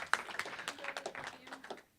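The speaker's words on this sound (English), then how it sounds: "Let's give them a round of applause." Brief, quiet scattered clapping from a small audience at a university game-design talk, a handful of separate claps over about two seconds that thin out and fade.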